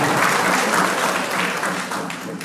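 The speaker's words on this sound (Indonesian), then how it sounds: "Mari kita berikan aplaus dulu." Audience applause at a customary induction ceremony held by a great Kuriwa tribe in Teluk Buana regency, a dense steady wash of many hands clapping, loud and continuous throughout.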